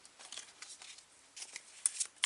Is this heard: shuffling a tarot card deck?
yes